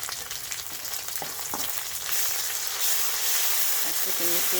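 Onion fries in oil with ginger and garlic paste for a village-style dried fish curry, a steady close sizzle that swells louder partway through, with a few stirring knocks and brief faint voice sounds.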